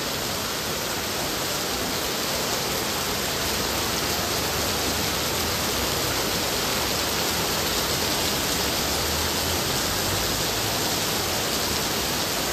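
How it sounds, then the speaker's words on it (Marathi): Heavy monsoon rain pouring down at a Konkan temple during Navratri, a dense, steady roar that fills the whole stretch without a break, loud and close. "किती जोर पकडला पावसाने"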